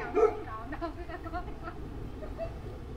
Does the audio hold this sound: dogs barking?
yes